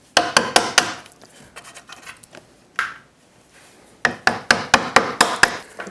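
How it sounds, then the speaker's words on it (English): A chisel is struck repeatedly while cutting wood out of a deck post for new balusters, giving sharp, close knocks in two quick bursts of about five blows each, with a few lighter taps and scrapes between them. "I'm gonna start with just a chisel, popping it out a piece at a time."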